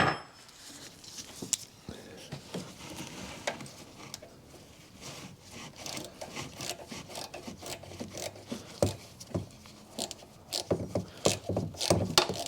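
A ratchet works a 10mm nut loose on the fuel filter of a 2011 Kia Sportage 2.0 CRDi diesel, giving close, irregular bursts of clicking and scraping with short pauses between strokes.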